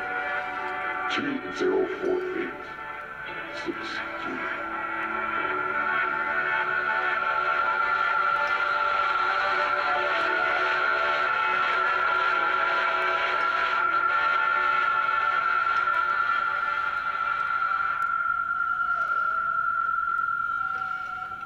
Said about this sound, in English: the sound effects during and after the Swedish broadcast sound like UFOs